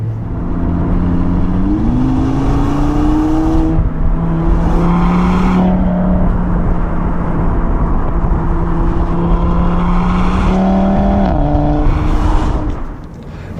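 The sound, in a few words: Audi RS3 driving, S-tronic double clutch gearbox changing gears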